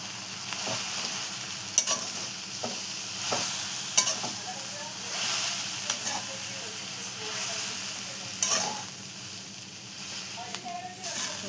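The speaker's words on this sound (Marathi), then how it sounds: "आणि छान असं मिक्स करून घेऊया सगळी भाजी." Chickpea greens frying and being stirred in a pan, with continuous hissing sizzle and steam and repeated spatula scrapes and taps across the whole stretch.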